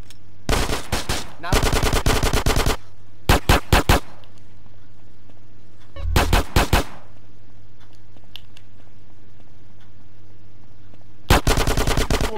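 Submachine gun fire from Grand Theft Auto: San Andreas comes in several loud, rapid bursts with long quiet gaps between them, the final burst arriving near the end.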